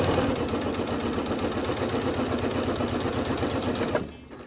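A sewing machine stitches apron fabric in a fast, even mechanical chatter, close and continuous for about four seconds before stopping abruptly, leaving a quiet room.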